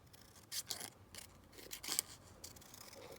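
Scissors snip through ready-made paper ephemera in several distinct, crisp cuts spaced about a second apart, quiet and close, with light rustling of paper between them.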